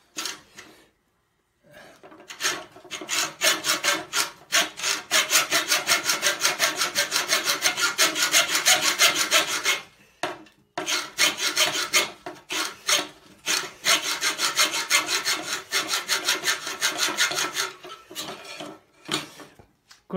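A hand saw blade rasps back and forth through the tough steel of a converted M5-1 bayonet, with rapid, rhythmic, close strokes in long bursts separated by short pauses and no talking.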